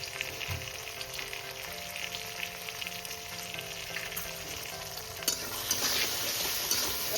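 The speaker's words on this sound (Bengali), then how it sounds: "আমি টমেটোটা একটু ভেজে নেব নরম হয়ে আসা অবধি" Tomatoes and onions seasoned with salt and turmeric fry in oil with a steady, close hiss, with light stirring throughout and a faint hum running beneath.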